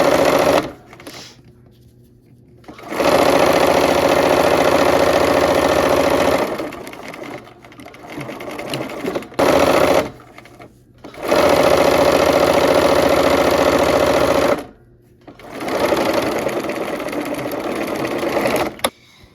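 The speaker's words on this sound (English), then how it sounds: "We're just gonna go ahead and back stitch on both ends again." A sewing machine back stitches quilt pieces, running in three long loud bursts of close, steady mechanical whirring, each separated by short pauses with faint handling noise.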